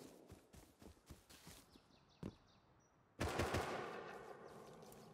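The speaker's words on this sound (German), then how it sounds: "Die beballern sich." Players trade gunfire in the Rust survival game, with a quick burst of rapid shots followed by a louder, sustained volley of fire that stays close and continuous, with no voices.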